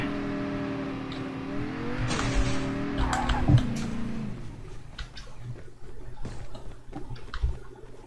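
A car in Call of Duty: Mobile, its engine droning steadily and rising in pitch as it accelerates, with a loud impact-like burst midway, then fading into scattered clatter; quiet talking is faintly present.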